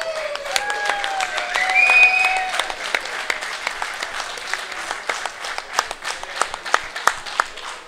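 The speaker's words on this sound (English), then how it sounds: "Round of applause for third place in the advanced division, Richard Buddy Young." Audience applause at an awards ceremony for a maritime championship in Charlottetown, Prince Edward Island, crisp clapping from a modest crowd with a few whoops at the start, fading slightly as it continues.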